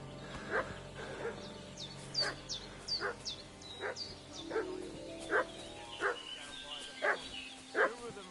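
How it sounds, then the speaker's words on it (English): A dog barks in the medieval role-playing game Kingdom Come Deliverance 2, about a dozen sharp, fairly near barks spaced roughly evenly, with high chirping birds and a faint ambient outdoor bed behind them. "What's that dog making such a fuss about?"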